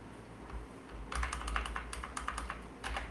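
Quick bursts of close computer keyboard typing as a command is entered in a terminal, crisp clustered key clicks with short pauses, no voices.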